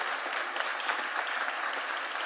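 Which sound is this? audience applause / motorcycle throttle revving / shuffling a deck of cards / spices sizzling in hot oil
audience applause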